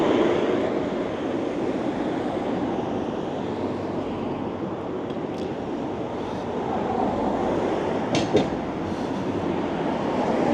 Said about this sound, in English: My apologies for the noise from these vehicles.